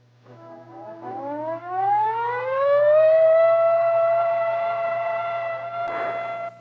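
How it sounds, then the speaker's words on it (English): A civil defense nuclear attack warning siren winds up from a low growl to a steady, piercing wail and holds its pitch, sounding alone and fairly loud. "Attack warning came at 20:15 hours."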